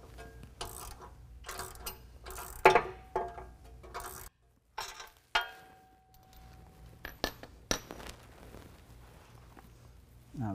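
A ratchet tightening a washer and lock nut onto a front bumper bolt on a Jeep JL: short bursts of metallic clicking in several separate strokes with brief pauses, close and fairly quiet, with a few clanks of tools.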